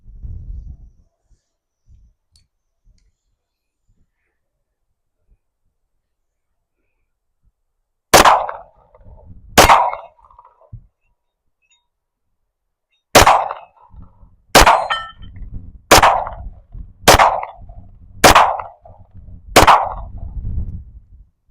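Eight pistol shots from a Centurion 14 fired at a target outdoors, two sharp loud cracks then a pause and six more in a steady rhythm, each with a short ringing tail.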